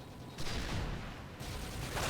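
Gunfire from the Akuma FM in the video game Modern Warfare 3, aimed at a Juggernaut, a fairly faint steady stream of shots that grows louder partway through.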